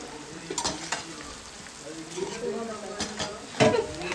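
Whole spices (khada masala) sizzle and crackle as they fry in a pan, with intermittent stirring scrapes and a few utensil knocks close by.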